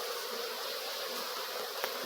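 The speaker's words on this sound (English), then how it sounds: "That's a queen bee." Honey bees swarm around an open beehive being removed in Jamaica, a dense, continuous close-up buzzing with no talking.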